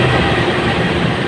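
The KA Parahyangan passenger train rumbles at a station platform in Indonesia, a close, continuous rolling roar of wheels and carriages with faint rail clatter and no voices.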